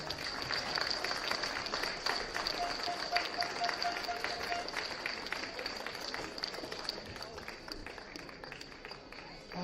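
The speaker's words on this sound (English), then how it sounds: "just a round of applause for both teams" A crowd applauding steadily outdoors at a schools boys' football final, a dense wash of clapping that continues throughout without a break.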